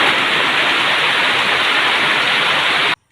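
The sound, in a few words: rain falling in a flooded village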